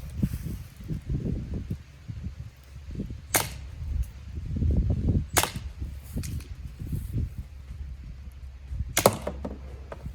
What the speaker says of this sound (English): 2 more shots here, again, just deflected, mostly bounced.